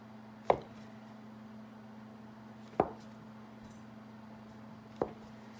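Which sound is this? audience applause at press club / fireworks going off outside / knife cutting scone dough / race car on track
knife cutting scone dough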